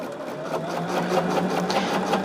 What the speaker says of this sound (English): once I use that thread cutter, it does do a like a reverse stitch on there